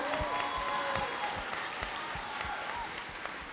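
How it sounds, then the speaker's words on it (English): Outdoor crowd at a school event applauds Meijer, a steady wash of clapping from many hands with a few sharper nearby claps, no voices over it. "Meijer deserves a big round of applause today"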